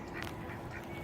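Ducks quack in a backyard setting, one brief faint quack standing out against a constant outdoor noise bed in a short, quiet snippet.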